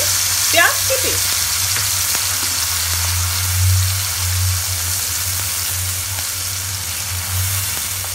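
Onion paste frying loudly in hot oil with cardamom and cinnamon sticks, a continuous close hiss and sizzle with a brief scrape of stirring near the start and a low steady hum underneath.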